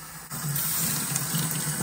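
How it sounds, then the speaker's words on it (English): Tap water turned on and running steadily, a loud close hiss and gush that starts abruptly and continues unbroken. "And I'm gonna have Denny turn the water on for me"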